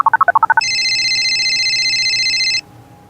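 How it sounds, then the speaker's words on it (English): A telephone ring effect in a Disney Mickey Mouse children's read-aloud storybook: a quick run of short electronic beeps, then one loud, steady ringing tone lasting about two seconds before cutting off to quiet. "It's a phone."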